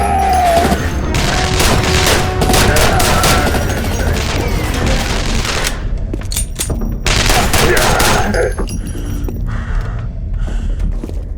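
Enemy gunfire in the first-person shooter Armed Forces Corp, dense overlapping bursts of automatic rifle and machine-gun fire, loud and close, with crashing impacts and brief lulls between volleys.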